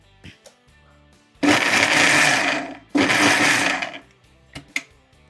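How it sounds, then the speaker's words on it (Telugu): Raw mango with chilli powder, salt, coriander and cumin powder is ground in a mixer grinder in two loud whirring bursts of about a second and a half each, with a short pause between them and light clatter before and after. "ఇలా మామిడికాయని మొత్తం మిక్సీ పట్టేసుకోవాలి."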